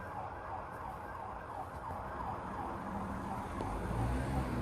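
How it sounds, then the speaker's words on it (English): A passing police armed response vehicle's siren wails steadily over rumbling traffic noise, sustained and fairly loud, with no voices. "There's a police car just gone past me, and I think it's an armed response vehicle."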